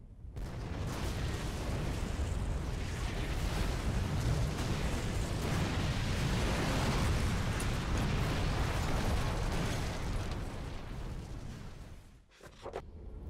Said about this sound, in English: That was one big explosion in the refinery.